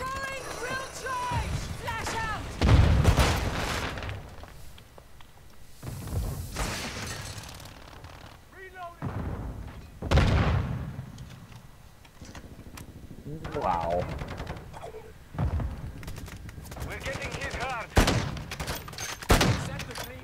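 Sentry gunfire in a multiplayer shooter video game crackles in repeated bursts, loud and close, broken up between lively spoken commentary and scattered game effects.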